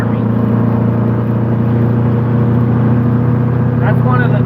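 Loud, steady low engine drone from an old truck, a constant rumbling hum filling the cab throughout with no pauses.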